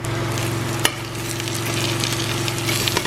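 Egusi soup frying in a pot as the water cooks off, a constant loud sizzle with an underlying hum and a single sharp tap of a spoon against the pot.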